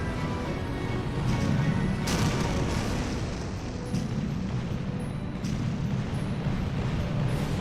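A heavy artillery barrage on a battlefield: a continuous rumbling roar with several duller booms swelling out of it, dense and sustained throughout, with no clear gaps.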